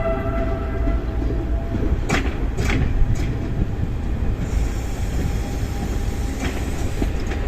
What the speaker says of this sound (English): This train is not in public service, but it's just used to take workers to and from the various goods trains.